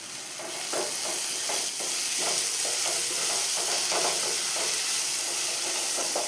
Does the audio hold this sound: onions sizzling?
yes